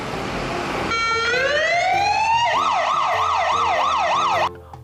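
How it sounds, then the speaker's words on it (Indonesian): A toy fire truck sounds its electronic siren, loud and close: a rising wail that settles into a fast warbling yelp, running for several seconds before it cuts off abruptly. "Ada mobil pemadam kebakaran."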